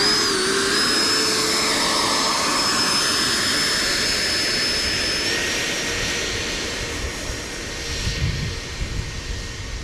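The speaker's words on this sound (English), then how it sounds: "another flight on the Rafale 80mm with a 5000" A Rafale 80mm radio-controlled model jet spools up for takeoff from turf in a crosswind, its turbine giving a loud, continuous high-pitched whine and roar that holds steady nearby throughout.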